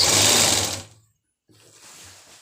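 Sewing machine stitching around the rounded hem of a circular palazzo, a loud steady whir for under a second, then a pause and a quieter second run of stitching.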